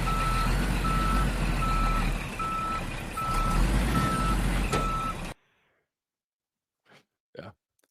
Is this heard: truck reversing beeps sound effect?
yes